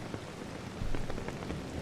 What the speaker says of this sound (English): I hear the sound of rain.